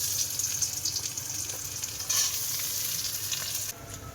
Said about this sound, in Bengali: চামচটা দিয়ে ম্যাগিটা ভালো করে সিদ্ধ করে নেই